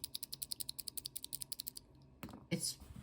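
Rapid, evenly spaced clicks of an NK Sherbet mechanical keyboard switch with a thick click, about twenty in under two seconds, close and crisp, followed by a few soft rustling noises.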